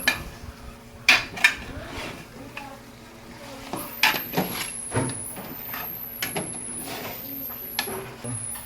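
Chicken washed with turmeric and salt being stirred in a metal cooking pot, with scattered clinks and scrapes of a utensil against the pot and a few louder knocks, while a voice talks.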